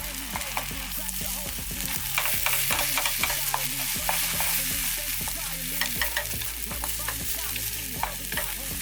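Beaten eggs are stirred rapidly in a hot frying pan, a steady sizzle under quick, repeated utensil scrapes and taps against the pan, close and continuous with no voices.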